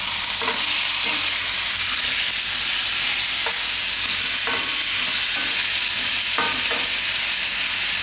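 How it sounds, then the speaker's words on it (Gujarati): Paneer frying in oil, with a loud, steady hiss and sizzle filling the whole stretch and a few soft knocks of a spatula now and then. The frying is close, with no talking. "આને થોડીક વાર આપણે આ બાજુ શેકી લીધા આ રીતના તેલમાં"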